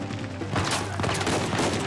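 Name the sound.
gunfire in a video game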